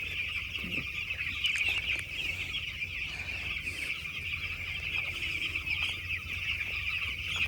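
Chickens cluck and chatter continuously inside a village poultry farm, a dense steady flock murmur with occasional wing flaps, heard at a moderate distance with no talking.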